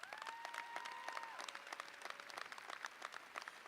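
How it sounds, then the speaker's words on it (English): Audience applause rolls through a university commencement ceremony, a continuous wash of many hands clapping at moderate distance, with a sustained tone sounding faintly beneath it. "please join me in a round of applause for Dr."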